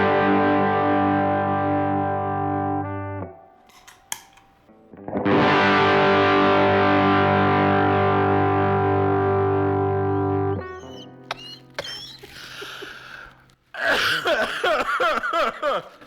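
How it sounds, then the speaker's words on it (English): A Klon guitar pedal drives a guitar into distortion: loud sustained chords ring for a few seconds, cut off, then return for another long held stretch, followed by sparser picked notes and a brief burst of noisy strumming. "This creates distortion."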